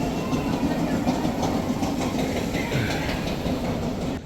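A family mine train roller coaster at Walibi Belgium rumbling along its track, a steady loud rolling roar with faint clattering, continuous and close, with no talk.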